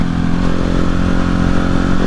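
A 2020 Husqvarna 701 motorcycle rides along with a loud, steady engine roar and wind noise, close and continuous for a couple of seconds with no talk.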